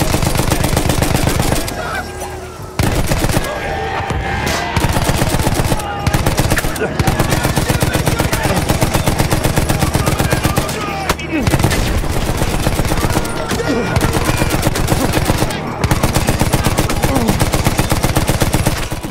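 Rapid automatic gunfire and bursts of shooting from the World War I shooter game Battlefield 1, loud and continuous across the whole stretch with a few brief pauses, with faint voices mixed under the battle.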